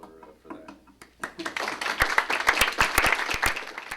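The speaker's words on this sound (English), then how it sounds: "So, round of applause for that." Applause from an audience at a book event starts as scattered claps, then swells into fuller clapping with sharp individual hand strikes standing out near the front.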